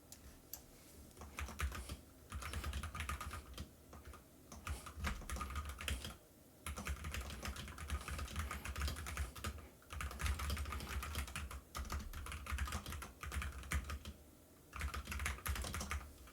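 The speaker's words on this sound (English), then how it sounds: "This is a loud keyboard without the noise cancellation, probably." Loud computer keyboard picked up without noise cancellation, rapid clattering keystrokes in bursts separated by short pauses, close and dry, with no voices.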